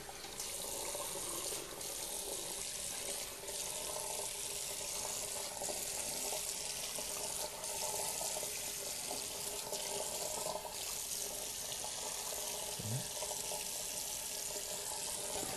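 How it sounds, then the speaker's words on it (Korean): Water streams steadily from a shower head switched to a solid jet while rinsing hair during a salon shampoo, a continuous close hiss with no talk. "샤워기에서 물기둥으로 좀 바꿔봤습니다."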